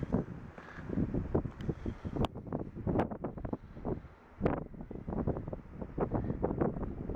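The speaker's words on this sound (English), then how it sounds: "That's windy today." Gusty wind buffets the microphone in rough, irregular bursts with no one speaking, swelling and dropping throughout.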